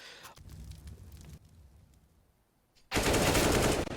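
Automatic gunfire in a Counter-Strike esports match, Cloud9 against Spirit in a BLAST Premier qualifier grand final: a quieter burst of rapid shots, a lull, then a loud, dense, sustained spray of fire at the end.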